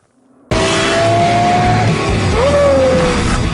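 A Lexus LFA engine bursts into sound after brief quiet and howls loudly, its pitch climbing and shifting through revs, with a tire squeal-like tone partway through, close and dominant without talk.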